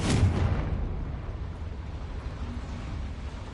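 A Confringo blasting spell goes off inside a small mine in the Hogwarts Legacy video game: one sharp explosive burst, followed by a long, steady rumbling tail that slowly fades.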